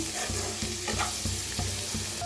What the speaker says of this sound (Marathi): हे असं मस्त हलवून का नाही भाजत राहायचं।